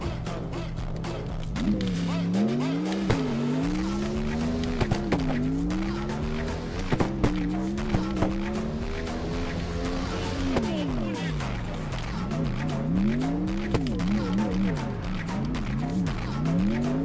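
Cars drifting in the CarX Drift Racing video game, engines wailing with rising and falling pitch while tires squeal almost continuously through tandem slides, loud and close, with a voice talking over it at times.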